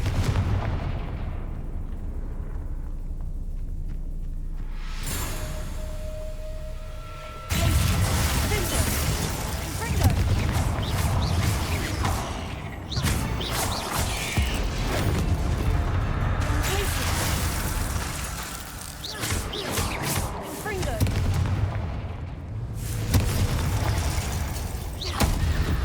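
Loud Confringo blasting-curse explosions in the Hogwarts Legacy video game, heavy booming bursts that roll on almost without pause amid dense game noise, with a short quieter stretch near the start.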